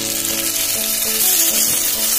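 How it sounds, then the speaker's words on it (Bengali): Chopped medium tomato sizzling loudly in hot oil as it is stirred in a pan for a biryani, a continuous close frying hiss with faint scraping of the spatula. "ভালো করে মিশিয়ে নেড়ে চেড়ে ভেজে নেবো।"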